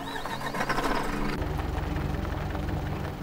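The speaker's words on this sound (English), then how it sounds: "It's quite an interesting tractor slash car." A tractor engine in the farming game Farm Manager 2018 runs with a steady, buzzing mechanical drone that continues throughout, with no talk over it.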